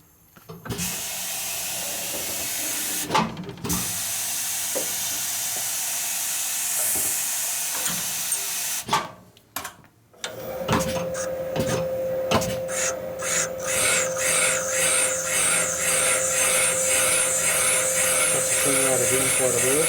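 Metal cutting on a machine working a part for a 2001 Indian Scout 88ci big-bore S&S Evo motor rebuild, a steady close grinding and rasping drone with a tonal whine, preceded by brief shop noises.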